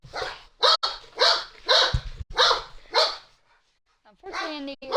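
Dogs bark close and loud in a rapid series of sharp barks with brief pauses, then a whining yelp at the end.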